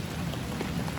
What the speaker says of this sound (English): We're safe in the rain